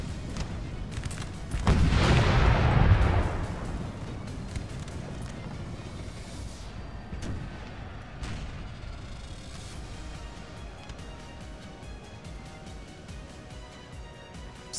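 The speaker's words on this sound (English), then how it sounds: "Artillery is still going off on top of the hill." Artillery fire on a hilltop in the Napoleon: Total War video game, a heavy rumbling boom early on followed by scattered distant cannon thumps and crackles under a continuous battle din.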